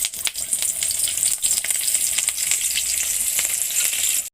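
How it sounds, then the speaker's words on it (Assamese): Chillies fry in hot oil for dal tempering, giving off a loud, steady, close sizzle with crackling pops throughout and no talk. "তেল গৰম হৈ আছে, জলকীয়াখিনি দি দিছোঁ।"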